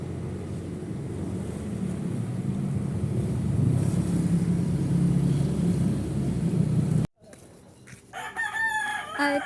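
A rooster crows and chickens cluck over steady rumbling wind or engine noise, which cuts off abruptly, followed by a few brief bird calls.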